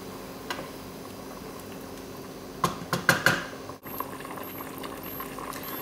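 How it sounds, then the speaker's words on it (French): Pasta water beginning to boil in a pan, a quiet bubbling simmer with a short burst of louder pops and clinks near the middle, then settling back to a soft steady boil without speech. "donc là l'eau commence à bouillir"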